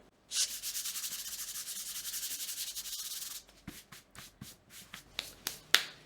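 Painted wood sign being sanded by hand with 400-grit sandpaper, a close, dry scratchy rubbing: one long continuous back-and-forth stroke, then a series of short separate swipes in uneven rhythm.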